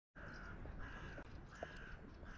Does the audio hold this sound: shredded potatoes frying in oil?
no